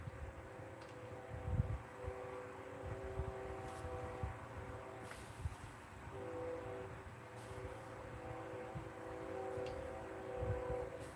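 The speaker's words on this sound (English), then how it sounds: "Oh, do I hear a train coming through?" A train rolls past at a distance with a steady low rumble and faint sustained horn tones, quiet and continuous with no talking.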